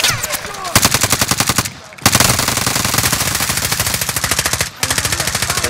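Rapid machine gun fire in a video game, loud sustained bursts with a fast regular rhythm, broken by two brief pauses, with players talking faintly underneath.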